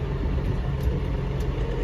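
A tractor engine with its mast raised, clearing thorny honey locust trees, rumbles steadily in a loud low drone at close range, with no talking.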